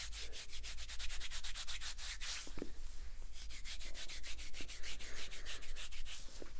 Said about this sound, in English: Muscles sound good when you tap them.